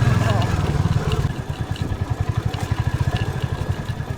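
An off-road motorcycle with big tyres chugs close by in an even pulsing beat. A voice speaks over it at first, then the engine continues alone.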